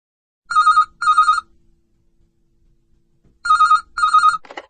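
A telephone rings in two pairs of short bursts with a pause between, clear and close against silence.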